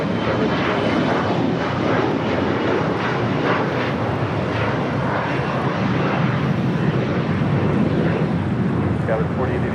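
Japan Air heavy jet taking off on runway 25 right at LAX, a sustained roaring engine thrust heard from a distance, steady and broad throughout.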